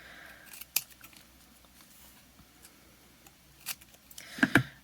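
Scissors snipping paper while cutting strips for origami German stars: a few sharp, quiet snips spaced apart, ending in a quick cluster of two or three louder cuts, close by in a hushed room.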